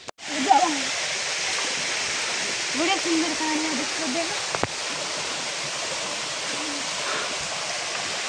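A waterfall on the climb up Kapilash steps roars with a steady, broad hiss of falling water throughout, while people talk over it nearby.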